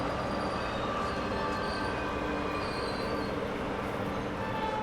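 At a station, the Indore Intercity train's locomotive moves off for reversal, a continuous loud rumble of rolling rail wheels with faint metallic squeal, steady over several seconds.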